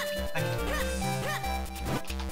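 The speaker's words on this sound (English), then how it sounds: "Dog?" A dog in The Legend of Zelda: Minish Cap yaps a few times over busy, steady game music, the barks short and partly buried in the melody.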